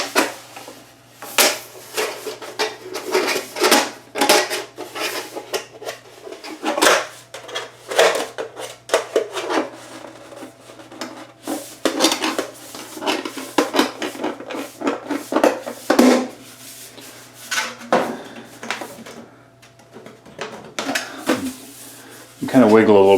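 Sections of aluminum dryer pipe with a lock flange detail being pushed and wiggled together in a laundry room, with repeated close metallic clanks, scrapes and knocks while a person talks throughout.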